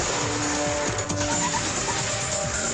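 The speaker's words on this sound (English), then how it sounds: "We're in my Subaru Outback" A Subaru Outback wagon with full-time all-wheel drive is on the move, its engine and road noise forming a continuous, fairly loud drone with a steady tonal hum and brief tire-like swishes.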